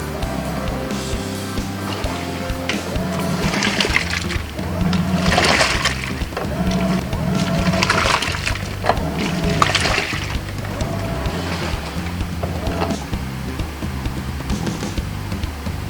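A Panasonic fully automatic washing machine churns its tub back and forth, water sloshing and splashing in repeated swells as the drum reverses direction, with a steady motor hum underneath.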